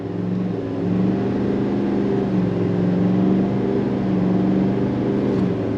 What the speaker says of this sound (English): Love that diesel sound.